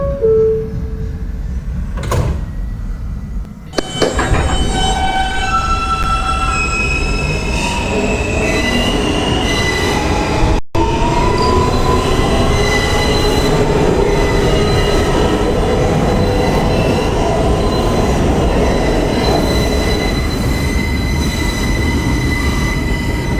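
A Queens-bound N local R160 subway train in New York pulls out of the station, its wheels squealing loudly with sustained high-pitched tones over a heavy rolling rumble that stays close and steady throughout.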